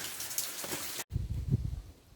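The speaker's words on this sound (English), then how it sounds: "it's still raining too heavy at the moment to go out and do anything like that" Heavy rain falls in a steady hiss, then a cut leads into closer, lower pattering and drips on a surface.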